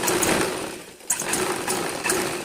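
A sewing machine stitches a joined seam in cloth, a loud close rapid whirring with a brief pause near the middle before the stitching resumes, no talk.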